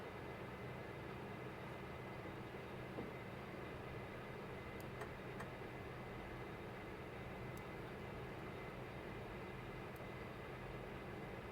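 A Dash 8 engine starting in the Prepar3D flight simulator, heard as a faint, steady turbine hum and whine that holds evenly throughout with a few tiny clicks and no voices.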